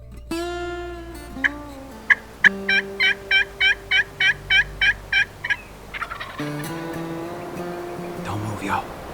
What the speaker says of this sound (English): we finally strike a gobble